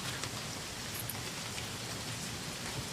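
Steady rain falling in the horror video game Remothered: Tormented Fathers, a continuous even hiss of drops without pause throughout, heard alone with no talking.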